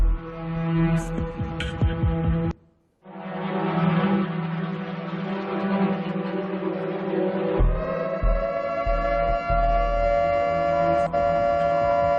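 A long, droning siren wails with steady tones, dropping out for a moment before resuming and holding on loudly.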